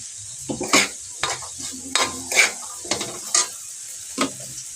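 Potatoes and corned beef sizzle in a pan as soy sauce is added, with a steady frying hiss broken by repeated sharp scrapes and clinks of a utensil stirring against the pan.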